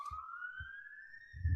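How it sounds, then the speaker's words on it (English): A police car siren wails as a steady rising tone, moderately loud and continuous, with low thumps and rumble underneath. "there's a siren."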